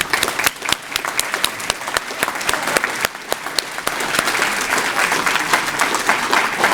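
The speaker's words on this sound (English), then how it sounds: "can I have another round of applause for these most deserving Hall of Fame inductees?" An audience at a high school distinguished alumni Hall of Fame ceremony applauds its inductees, with sharp individual claps at first that swell into a fuller, continuous round of clapping.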